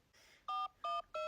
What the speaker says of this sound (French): comme ça j'appelle mon téléphone avec le tien